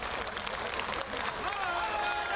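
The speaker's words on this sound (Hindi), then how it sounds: "ये आपके ताली की आवाज बंगाल के धरती पर गूंजना चाहिए" Audience applause at a political event in Prayagraj marking a JP Nadda office inauguration, a dense sustained clatter of clapping from a large crowd with a speaking voice over it.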